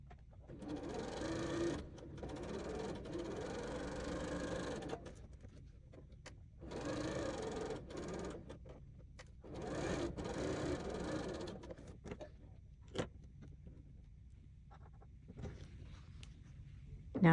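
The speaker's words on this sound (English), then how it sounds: "Sew a 1/4 inch away from each line, going in both directions." A sewing machine stitches quilt pieces for half-square triangles in several bursts of steady whirring, each lasting a few seconds with short pauses between, close and moderately loud, then gives way to faint handling clicks.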